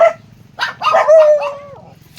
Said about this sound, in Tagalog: ang daming aso ah